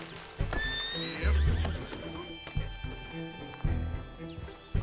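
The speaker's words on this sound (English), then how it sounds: "I'm taking Bill's horse." Horse whinnies and clip-clopping hooves in Red Dead Redemption 2, with a rising neigh early on and a steady hoof rhythm over low game ambience, fairly close and clear.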